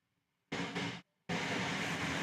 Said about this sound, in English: You can hear the train going past and another one.